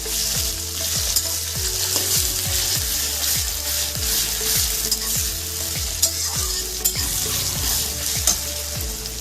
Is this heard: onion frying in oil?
yes